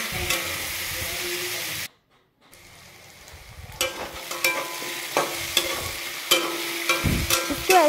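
A potato and spinach curry fries in a pan with Kashmiri red chili powder, sizzling steadily while a spoon scrapes and stirs in repeated sharp strokes after a brief silent gap, close by and with no speech.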